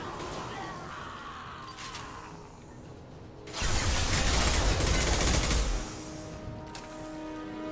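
Gunfire in the Mass Effect 2 video game, a dense burst of rapid shots lasting about two seconds midway, loud and close, set against quieter game ambience and mechanical hum before and after.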